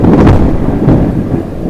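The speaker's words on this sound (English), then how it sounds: "We woke up to thunderstorms." Early-morning thunderstorm outside a beach condominium resort patio, a loud rolling rumble of thunder swelling and fading over steady rain, no voices.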